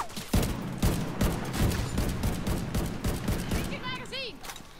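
Rapid bursts of gunfire in The Division 2 shooter game, loud repeated shots under a voiceover, with electronic whooshing game effects near the end.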